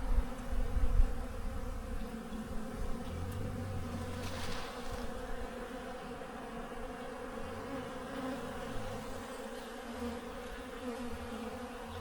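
Bees buzz steadily around their nest in a rural Chinese village, a continuous close insect hum lasting throughout with no talk.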